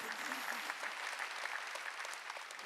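Congregation at a Sunday church worship service claps together, a faint, even wash of hand claps with a murmur of voices underneath.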